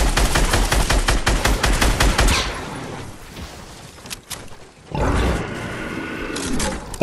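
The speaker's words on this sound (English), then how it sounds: "Oh, it's a zombie I shot." Rapid gunfire in Fortnite Battle Royale as a player shoots a zombie: a loud burst of fast shots, a quieter gap, then another heavy burst.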